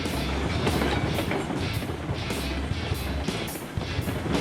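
A long freight train snakes along rails in the Railroads Online game, giving a continuous rolling rumble with periodic wheel clatter at a steady rhythm and no voices over it.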